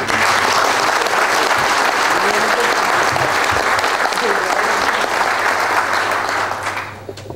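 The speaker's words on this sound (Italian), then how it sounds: "Un applauso." Sustained audience applause at a memorial event for a pianist, a thick continuous roar of many hands with some crowd murmur and voices underneath, fading out near the end.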